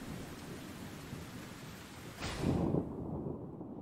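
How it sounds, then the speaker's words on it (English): Steady rain falls throughout a rainy scene in the video game Wanted: Dead, with a low rumble of thunder swelling midway and then fading as the rain continues alone. "It's still raining."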